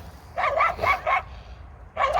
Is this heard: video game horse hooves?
no